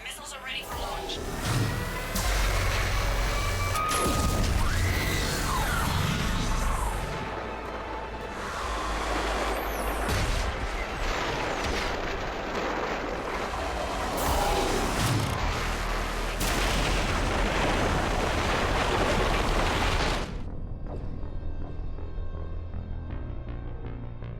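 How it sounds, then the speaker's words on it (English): Missile launch and heavy explosions in the video game Mass Effect 3 Legendary Edition, a long loud rumbling barrage with booming blasts and roaring low end that cuts off abruptly near the end, leaving a quieter tail; voices talk underneath. "Missiles are ready for launch."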